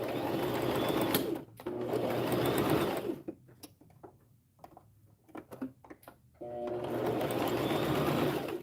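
A sewing machine stitches a fleece hat in three steady bursts of rapid mechanical whirring, with quieter pauses between them filled by small clicks and handling noises.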